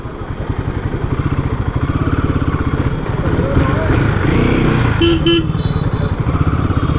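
Royal Enfield Himalayan motorcycle crawling in first gear through a busy Indian bazaar, its close single-cylinder engine thumping steadily and loudly throughout, with a brief horn toot and street bustle, and a person talking over it.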